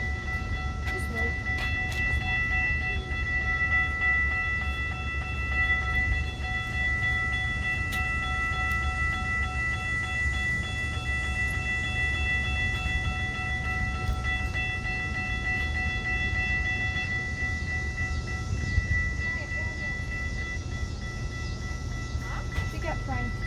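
Metra commuter train rolling past an Illinois station, a steady loud rumble with sustained tonal whine throughout, people murmuring faintly underneath.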